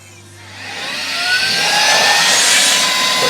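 Compressed air is blown through the ports of a Saker 3-in-1 vacuum gadget to dry out alcohol. It starts as a strong rushing hiss and builds to a loud, steady whoosh, close by with no voices.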